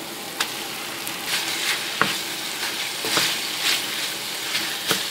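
Minced meat frying in a pan with red paprika paste for stuffed peppers, a loud continuous sizzle broken by repeated stirring scrapes and spatula knocks.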